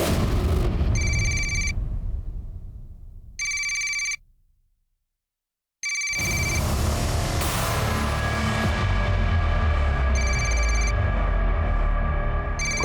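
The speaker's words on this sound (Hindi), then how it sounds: "कब से फोन बज रहा है" A telephone bell rings in repeated short bursts, loud and close, with rumbling noise and a sudden quiet gap between rings.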